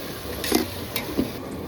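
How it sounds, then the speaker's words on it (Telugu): Steady sizzling of chopped onions frying in hot tempering oil, with a few soft stirring scrapes and clinks rising above the hiss. "ఉల్లిపాయలు ముక్కలు కట్ చేసి ఆ తాలింపులోకి వేసేస్తుంది"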